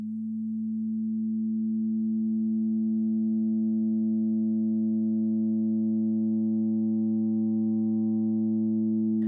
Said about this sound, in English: The last sound I have in this break section here is this operator patch